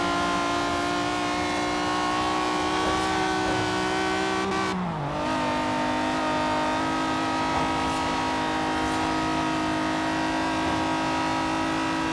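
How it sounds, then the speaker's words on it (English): A BMW V12 engine in the racing game Forza Horizon 3 holds a steady, loud, buzzing drone through the whole stretch, with one brief dip and rev swoop partway before settling back into a sustained high-rpm howl; no talking. "Such a lovely sounding engine, this BMW V12."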